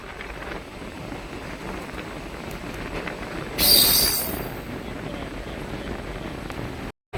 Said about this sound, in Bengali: Santragachi Digha first passenger train এই মুহূর্তে প্রবেশ করছে দীঘা রেল স্টেশন